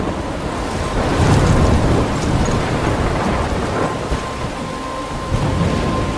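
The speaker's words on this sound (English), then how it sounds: "I'm trapped in a storm?" A thunderstorm with heavy rain rages in the video game Life is Strange, a loud continuous roar of rain and wind with low rumbling thunder that swells and eases.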